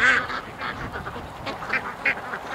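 A huge flock of more than a thousand ducks quacks as they rush out of their pen, a dense, overlapping chorus of calls close by, with a few louder bursts rising above the steady clamour.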